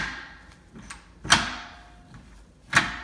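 A door with a freshly fixed stiff knob being opened: the knob turns with a soft rattle and then two sharp latch clicks sound close by, about a second and a half apart, in a quiet room.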